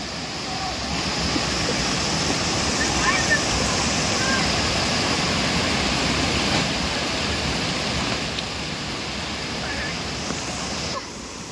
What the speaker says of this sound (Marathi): So this is the waterfall guys. बघू शकता वॉटरफॉल असं नाही आहे, पण पाणी एकदम वाहत आहे